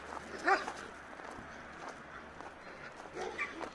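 A dog gives one short bark nearby at an animal shelter, followed by quiet indoor noise and a fainter second yelp near the end.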